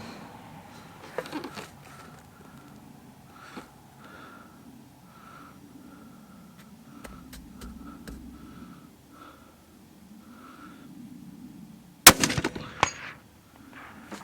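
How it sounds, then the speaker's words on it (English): A Savage Axis rifle is fired at a large target outdoors, with a few sharp distant reports scattered through a quiet stretch and a loud close shot near the end. "Okay, we're gonna shoot at that large target on the right"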